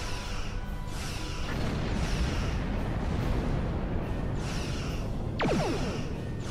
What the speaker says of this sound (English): once the shields are actually down, you can start shooting torpedoes and other weapons at them as well.